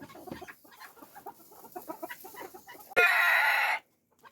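Chickens cluck in a straw-lined shed during the tail end of a winter storm, a lively scatter of close, overlapping clucks and calls followed by one loud, harsh crow-like squawk before quiet.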